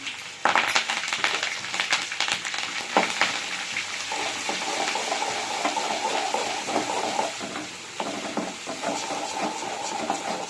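Ginger-garlic paste hitting hot oil with cumin for a vegetable pickle: a loud, continuous sizzle and crackle, close up, with occasional stirring scrapes and no talking.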